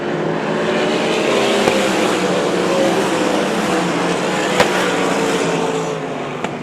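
Pavement sprint cars racing in a heat race at Irwindale, a loud, continuous roar of several high-revving engines that swells and fades slightly as the cars pass, with no commentary over it.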